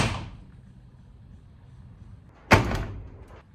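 A self-closing door on a 1976 Land Rover Series 3 slams shut with a sharp metallic thud and a short rattle, following the tail of an earlier knock, with quiet in between.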